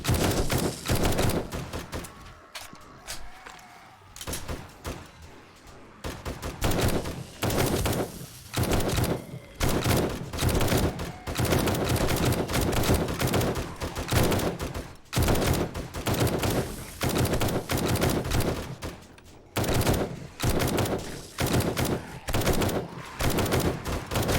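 A big gun in 7 Days to Die fires loud rapid bursts of automatic gunfire, broken by short pauses, with the longest lull early on.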